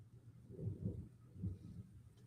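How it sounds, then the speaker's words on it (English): Faint, low thunder rumbles in the distance in two soft rolling swells. "I hear thunder."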